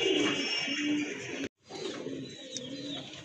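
A pair of domestic pigeons for sale coo steadily and close by, soft throaty calls running on under a bright background hiss, broken by one brief silent gap.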